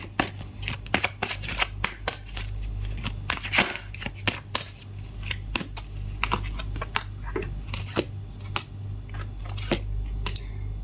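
Tarot cards drawn, shuffled and flipped over one after another, a steady run of close, crisp snaps and papery slides with short pauses between, nearly continuous throughout.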